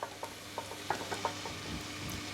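Chopped mushrooms, garlic and vegetables sizzle steadily in a pan while a spoon stirs them, giving a run of sharp scraping clicks over a soft continuous fry, close and moderately loud.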